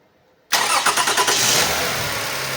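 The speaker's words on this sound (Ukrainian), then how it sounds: "зараз запускаємо двигун" After a moment of quiet, a Toyota Camry 30 engine cranks briefly after an oil and air filter change, catches and settles into a steady idle, loud and close.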